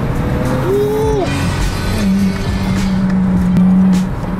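A Lexus IS300 with a straight pipe exhaust pulls hard in third gear, loud rising engine roar that climbs, drops at a shift, then holds a raspy drone, heard from inside the car.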